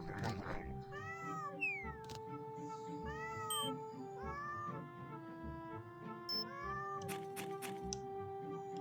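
A cat in Super Granny meows repeatedly, a string of clear, rising-and-falling cries close up over background game music, some drawn out almost into a caterwaul.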